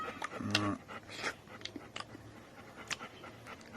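A Golden Retriever named Beyaz pants softly in quick, uneven bursts close by, with a stronger breathy puff early on and fainter huffs trailing off in a quiet room.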